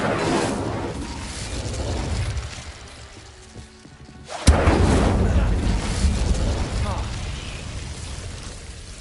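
A fire spell cast in a video game, heard as one sudden loud whooshing burst midway that is fuller than the game ambience before it, with speech nearby.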